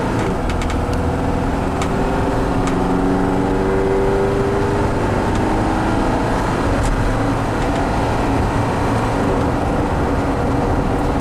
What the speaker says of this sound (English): Nice smooth shifting. The automatic transmission is working very well.